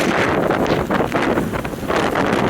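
Fierce wind of around 80 mph, with rain, batters a hiker's microphone in a dense, continuous roar that gusts and buffets loudly throughout, with no voices.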